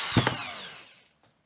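A power tool reams out a hole in a footswitch part for an amp: a short, close whirring burst with a couple of catches at the start that winds down and fades to quiet within about a second.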